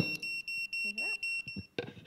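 Repeated electronic warning beeps from a GPS virtual fence collar for sheep, steady high tones pulsing about six times in quick rhythm, held close to a microphone, with a brief shuffle and handling noise near the end.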